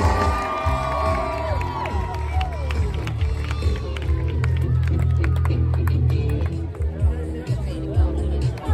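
A rodeo crowd in the Sierra Nevada foothills cheers and whoops for a barrel racer, with children shouting and people talking throughout over a loud, continuous outdoor hubbub.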